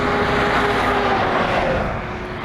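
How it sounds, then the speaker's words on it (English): Heavy trucks roar past on a busy road, a loud continuous engine and tire drone that holds steady and then eases slightly as they pass, with no talking. "Noisy ass trucks."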